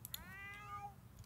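A cat meows in The Sims 4, a single faint, rising-and-falling game-sound meow heard over a soft background hum.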